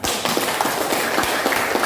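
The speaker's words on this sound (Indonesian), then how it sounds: "Tepuk tangan untuk teman Anda." Students in a classroom clap for a classmate, a brief steady patter of many hands, close and busy, with no talking over it.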